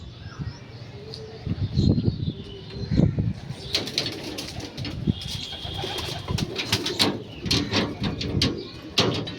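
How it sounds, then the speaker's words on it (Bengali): Racing pigeons in a loft make soft, irregular cooing and fluttering wing flaps. Nearby bird calls and chirps sit over a steady low background hum that lasts throughout. "পাল্লা করা কবুতর"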